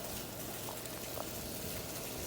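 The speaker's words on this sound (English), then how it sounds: "Our water started to boil, so we start adding our peppers." Water boils in a pot, ready for pickling peppers, with a steady close bubbling roar and a few louder pops and gurgles.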